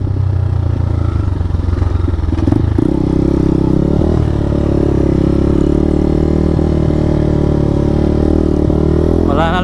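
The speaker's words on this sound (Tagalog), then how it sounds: "Grabing bounce ng motor ko." A motorcycle engine drones steadily up close, with clattering thumps as the bike jolts over a rough trail to Sitio Haduan, Mabalacat, Pampanga.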